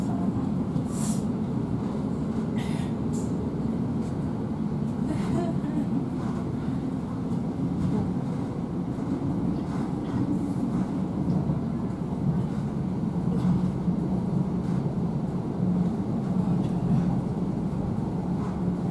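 A Class 700 Thameslink train pulling out of Burgess Hill, heard from inside the carriage: a steady, continuous low rumble of motor and wheels on rail, with faint clicks and rattles over it.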